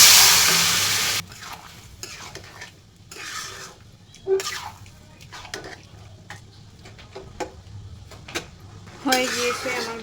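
Vegetables frying and being stirred in hot mustard oil in a pan, with a loud sizzle at the start that drops to a quieter hiss under scattered spatula scrapes and clinks, then a fresh burst of sizzling near the end.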